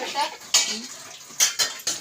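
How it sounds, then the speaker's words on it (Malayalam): Dishes clatter and clink in a few sharp bursts as they are washed, with splashing water and faint background sounds between the knocks. "ഞാൻ പാത്രം കഴുകുന്നുണ്ട്"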